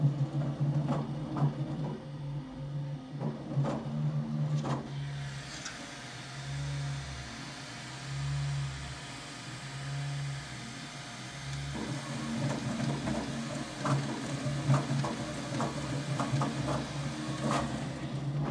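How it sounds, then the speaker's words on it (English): Bambu Lab P1S 3D printer printing carbon fiber nylon at a slowish pace: a quiet, low hum with steady fan noise, punctuated by short bursts of stepper-motor whirring and clicks from the moving print head. "Alright, now this is the sound of a P1S printing."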